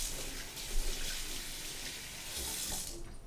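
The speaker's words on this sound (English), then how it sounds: "And wash our celery here." Cold water runs from a kitchen faucet over celery being washed, a steady close splashing stream that thins out near the end.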